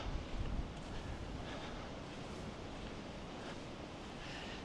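Steady wind rushing and buffeting against the microphone on Fraser Island (K'gari), Australia, a broad constant roar with a stronger gust at the start.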